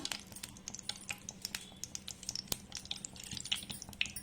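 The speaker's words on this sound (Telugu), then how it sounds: "ఒక స్పూన్, పెద్ద స్పూన్ నెయ్యి వేసుకోవాలి. కొంచెం ఇది కరిగిన తర్వాత" Ghee melts and sizzles in a pan with small irregular crackles and pops over a faint low hum, quiet and close.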